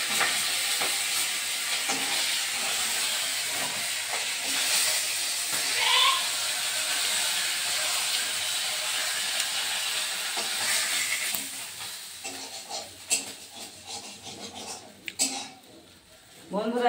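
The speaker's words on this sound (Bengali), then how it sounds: "তা চলো বন্ধুরা মাছটা ভেজে নিই।" Rohu fish frying in a pan, a steady hiss and sizzle of hot oil running throughout with occasional clinks and stirring noises near the end, with a person speaking at times over it.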